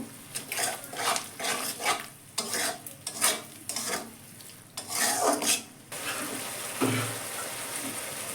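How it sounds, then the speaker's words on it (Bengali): Ground turmeric and Kashmiri chili spices being stir-fried in a pan over a high gas flame, with repeated close scraping strokes over a continuous sizzle, the stirring pausing near the end while the frying hiss carries on alone. "এবার গ্যাসটা জোর দিলাম মশলাগুলো কষবো"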